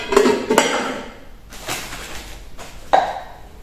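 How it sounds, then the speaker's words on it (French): Metal saucepans clank and clatter in a few sharp bursts as they are unpacked and handled, with brief quiet gaps between handling noises. "Une casserole comme ceci. Et une autre casserole comme ceci."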